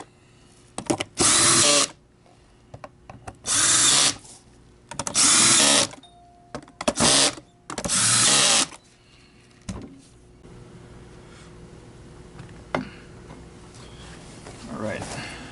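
A power tool torques down a part during repair of a TriStar EXL A101 MG 2 vacuum, whirring loudly in five short, close bursts separated by quiet pauses.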